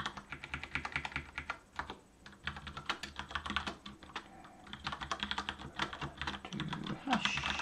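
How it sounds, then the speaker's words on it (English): Fingers type on a computer keyboard while someone writes C++ code, producing rapid bursts of close, crisp keystrokes with brief pauses and occasional quiet muttering underneath. "Do the typing here."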